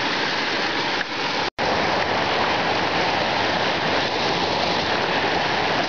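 Loud, steady rush of a waterfall's second cascade in the Carpathian mountains, a dense continuous roar of falling water close by, briefly cut off for an instant midway.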